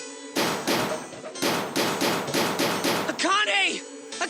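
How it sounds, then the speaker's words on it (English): Fists slamming against a door in the Zero Escape video game, a series of heavy repeated pounding blows in uneven rhythm, loud and close, ending in a ringing metallic tone. "he started slamming his fists against the door"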